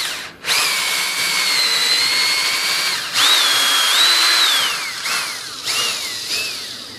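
A power drill whines in several bursts during a composite sailplane wing build, its pitch rising and falling as the trigger is squeezed and released, loud and close with brief pauses between runs.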